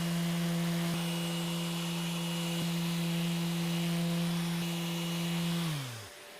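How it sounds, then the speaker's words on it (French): An electric sander running steadily on a wooden picture frame, a loud close buzzing hum that holds for several seconds before it winds down and stops near the end. "Je suis totalement fan de cette ponceuse."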